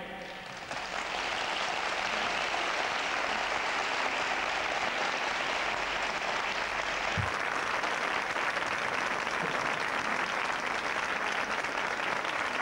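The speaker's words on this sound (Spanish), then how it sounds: "vamos a pedir cariñosamente y respetuosamente el aplauso de su pueblo para él" Audience at a flamenco tribute night in Bornos breaks into sustained, dense applause that swells within the first second and holds steady, loud and close, with no talk over it.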